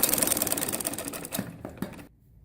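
A sewing machine stitches a pleated salwar in a fast, close, rapid run that slows and stops after about two seconds, followed by a few faint clicks and then quiet.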